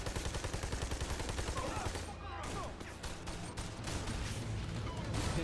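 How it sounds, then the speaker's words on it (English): Rapid gunfire from the video game Army of Two: The Devil's Cartel, loud bursts of shots crackling nearly nonstop with a brief lull, heavy action noise throughout. "Who's shooting? Hey, guess what? That is really loud."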